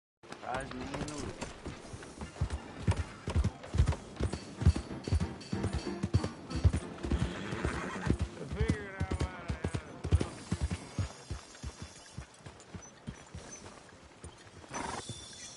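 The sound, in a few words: horse neighing and hooves in a video game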